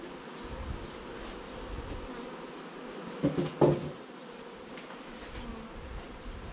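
A honeybee colony with mites drones steadily during a hive inspection, a close, continuous buzz with a brief louder swell partway through.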